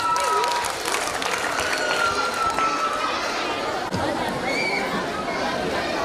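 An audience at a school parents' day applauds a dance performance with steady, dense clapping and crowd chatter throughout, fairly loud and continuous, with a voice speaking over it.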